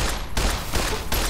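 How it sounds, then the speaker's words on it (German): Rapid gunfire bursts aimed at scorpions in the video game Fallout: New Vegas, loud, dense shots filling the whole moment with no talk over them. "Geh mal auf den Stachel schießen."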